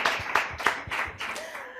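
An audience at a lively show claps in a short burst of applause, quick irregular hand claps close together, fairly loud and fading slightly toward the end.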